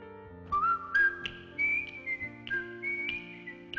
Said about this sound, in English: Andy Griffith's whistling theme song.